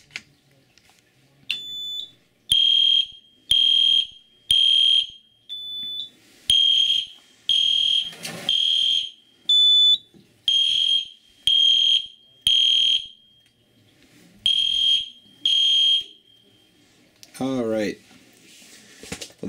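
A 4010 fire alarm system sounds during a test, loud, close, regular pulses of a shrill tone with short gaps, followed by a faint brief noise at the end.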